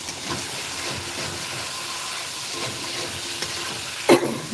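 Potatoes in spiced oil cooking in a pan, giving a steady dense sizzle and hiss with faint stirring scrapes and one brief louder clink near the end.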